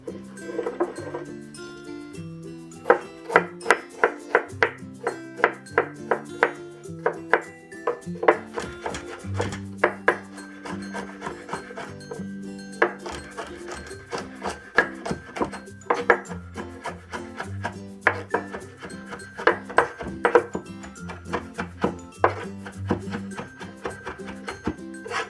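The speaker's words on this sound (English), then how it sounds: "let's mince the ginger and garlic together" A knife mincing ginger and garlic together on a wooden cutting board, rapid irregular chopping taps in bursts, close and fairly crisp, with quiet music underneath.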